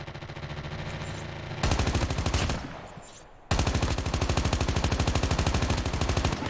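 Rapid automatic AK-17 fire in the mobile shooter Call of Duty Mobile: two long, dense, evenly spaced bursts of loud shots separated by a brief fading pause, with no talking.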